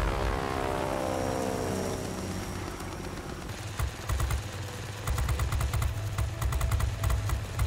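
Single propeller warplane in World of Warplanes, a droning engine note that falls in pitch as it passes, followed by rattling bursts of machine-gun fire over the roaring engine.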